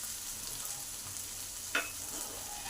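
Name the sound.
semolina frying with spices in a pan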